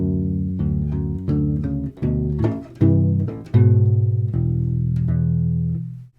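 Two measures of a main theme played on a U-Bass, a ukulele-sized rubber-string bass, a run of close, warm plucked notes and chords ending in a held note, with no voices.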